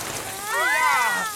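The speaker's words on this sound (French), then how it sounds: "C'est un être humain avec un arrosoir dans la main." Cartoon water sprinkling from a watering can, heard as a brief bright swirling trickle with a rising and falling whistle-like shimmer, fairly close and alone.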